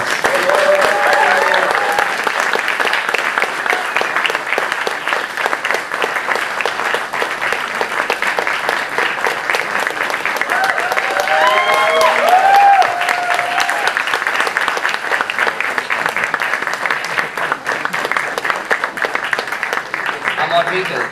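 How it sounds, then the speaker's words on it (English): Sustained applause from a festival audience welcoming a guest onto the stage, dense steady clapping from a large crowd for about twenty seconds, with a few faint voices and cheers rising through it. "with a huge round of applause"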